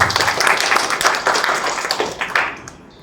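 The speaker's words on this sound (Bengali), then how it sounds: "সবার জন্য আমি একটা জোরে করতালি আশা করছি।" Audience at an award event applauds together, a dense burst of clapping that fades out toward the end.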